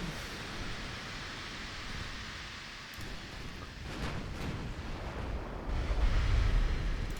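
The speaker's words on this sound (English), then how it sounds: "Torpedoes away." Torpedoes launched from a warship in a Japanese naval campaign of the game Dreadnought Improvement Project: a steady rushing wash of noise with a few soft bursts partway through and a deeper rumble swelling toward the end, with no talking.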